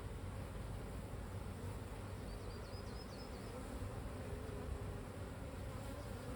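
Honey bees buzz in a dense, steady drone during a hive inspection, a constant low hum with no break throughout.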